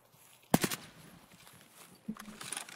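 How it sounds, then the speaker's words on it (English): In a PC shooter video game, a couple of sharp gunshot bursts ring out, one quick double crack early and a fainter shot a moment later, over a quiet background. "Where are those shots coming from?"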